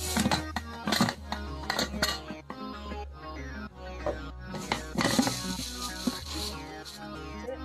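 A pressure cooker holding batter with coconut pieces and small onions is closed up, giving a run of close, loud metallic clinks and clatters spread across the whole stretch.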